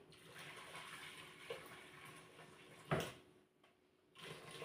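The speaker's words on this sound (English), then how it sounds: "So I'm just pouring some water in." Water poured into a pot of rice for a pressure cooker, a steady low splashing wash with a brief louder slosh midway before it trails off.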